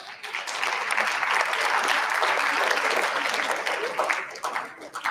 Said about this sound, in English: Clap for your friends here.